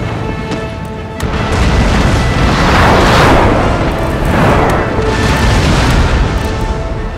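Cannon fire in Empire: Total War, a heavy rumbling barrage of booming explosions swelling and overlapping into a loud, continuous roar after a brief quieter lead-in.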